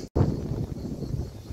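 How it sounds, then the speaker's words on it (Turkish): Strong outdoor wind buffets the microphone at a huge rock arch formation in a geopark, a loud continuous low rumble after a brief dropout at the start, with no talking. "Oldukça çok rüzgar var, seslerim gelmiyor olabilir."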